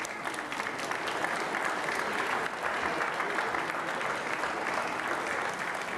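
Audience at a city council meeting applauds to welcome Trini Lopez, a thick, even roar of many hands clapping that holds steady at moderate distance from start to finish.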